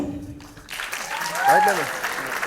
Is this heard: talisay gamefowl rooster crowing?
no